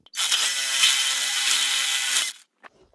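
A power drill bores a hole behind an EV charger stand for the charging cable: one loud, close, continuous whirring burst of about two seconds, then a few small clicks.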